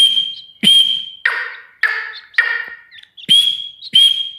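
A whistle is blown near a grey partridge in short repeated bursts, steady piercing tones alternating with breathier warbling calls, loud and close with brief silent gaps between.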